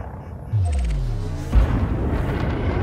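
A ship in Elite Dangerous fires a missile volley: a deep whooshing launch with falling tones, followed a second later by another heavy boom, over a constant low engine hum.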